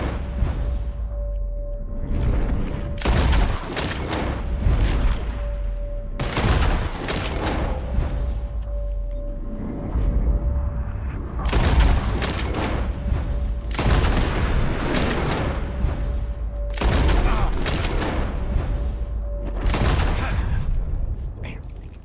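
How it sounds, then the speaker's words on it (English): Widely spaced, loud gunshots fired at birds in Red Dead Redemption 2, about five sharp cracks that each ring out and decay, with in-game voices talking between them. "As soon as you see them, start shooting."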